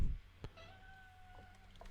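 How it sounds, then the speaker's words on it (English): A male house cat gives a single faint, drawn-out meow in a quiet room, heard alone without talk. "My cat's getting antsy. He wants attention."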